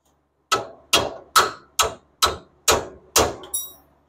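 Eight sharp hammer taps on a through bolt being driven into a Nissan Titan front strut, evenly spaced and loud, each a crisp metallic strike with a short decay, no voices.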